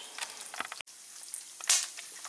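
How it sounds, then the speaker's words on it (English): Popcorn kernels pop and sizzle in a pot with salt and butter, giving sparse sharp pops over a steady frying hiss and a brief louder burst. "so it's starting to pop I'm going to put the lid back on"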